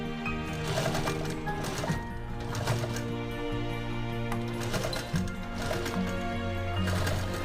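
A sewing machine stitches saree fabric for a designer purse in a steady, continuous mechanical run that carries through the whole stretch with no voices.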